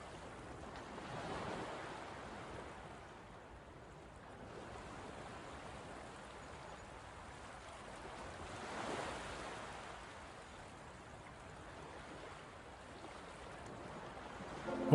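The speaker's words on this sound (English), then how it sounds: "from the silence, the crashing of waves." Crashing ocean waves in the video game Anodyne 2, a soft steady surf wash that swells and recedes in slow surges, fairly faint and continuous with no voices.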